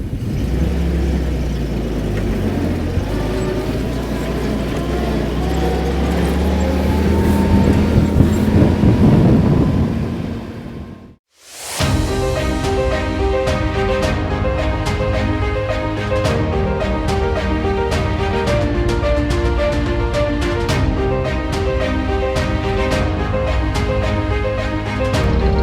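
A vehicle drives over rough and normal terrain with a rumbling engine and bumpy, rattling road noise that builds for about ten seconds, then cuts off abruptly into a steady, different tonal sound.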